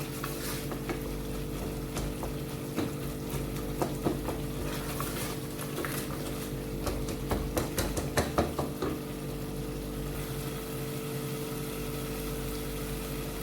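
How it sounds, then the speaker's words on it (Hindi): Masala for a black chickpea curry fries and sizzles in a pan while a spoon stirs and scrapes it in irregular clattering bursts, close and steady, with no voices. "इसको हम अच्छे से भूनेंगे।"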